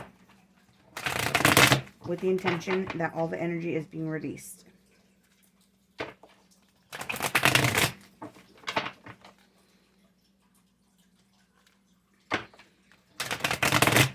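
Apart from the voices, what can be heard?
shuffling tarot cards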